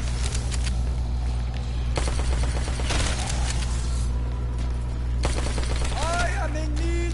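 Gunfire in a zombies video game: bursts of rapid automatic shots come in several clusters over a constant low hum, loud and close, with no talking over them.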